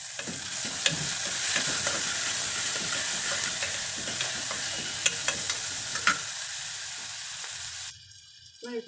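Masala powder being stirred into avare kalu (field bean) curry frying in a pan, a steady close sizzle with scraping spoon strokes and clinks throughout, no talk, cutting off near the end.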